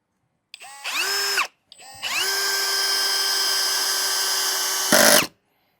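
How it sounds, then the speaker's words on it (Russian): A DEVETECH CIS 120 cordless drill drives a self-tapping screw, whining in a short first burst, then a longer steady run that ends in a brief louder strain before stopping. The drill is close and heard alone. "Уже должен саморез загнаться до конца"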